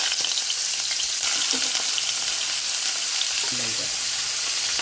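Garlic sizzles steadily in hot oil in a Bengali-style kitchen, a constant broadband frying hiss with a few faint clinks of stirring, heard alone without talk.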